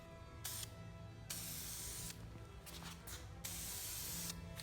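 Filler primer sprays from an aerosol can onto black car trim in several bursts, a steady broad hiss cutting in and out with short pauses between passes, close and fairly loud.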